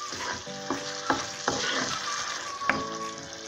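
Beef frying in a pan with cauliflower stir-fry, stirred repeatedly: a steady sizzle with several sharp scraping, clacking strokes of a utensil against the pan, close and alone without talk.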